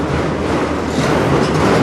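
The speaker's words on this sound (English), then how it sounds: "That train always snails through here." A CN freight train rolls slowly through Sarnia, Ontario at night with a loud, close, continuous rumble and steady rail noise, and no talk.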